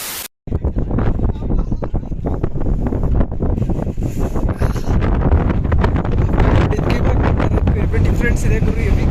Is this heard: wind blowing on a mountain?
yes